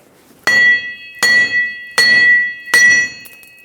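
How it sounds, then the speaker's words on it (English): Four heavy hammer blows strike a wheel bearing hub at a steady pace, knocking it out of a 2007-2014 Chevrolet Silverado 2500 HD, each ringing out with a bright metallic clang that decays before the next. "Now grab a large hammer and hammer it side to side, top to bottom, until it pops out."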